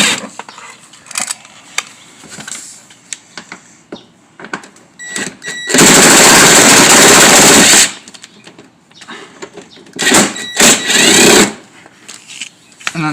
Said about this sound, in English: I'm going to take the bolts off on this side.